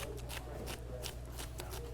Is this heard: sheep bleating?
no